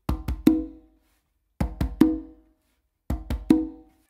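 A conga is struck in three identical groups, each with two quick bass strokes from the dominant hand followed by a ringing open tone. The hits are close, clean and resonant, with brief silences between groups.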